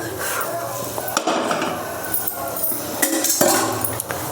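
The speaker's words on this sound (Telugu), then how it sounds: "ఇదిగోండి గిన్నె పెట్టేసుకుంటున్నా" A cooking pot set down on a gas stove while cauliflower pakoda is being made, giving a few close, sharp metallic clanks over kitchen clatter.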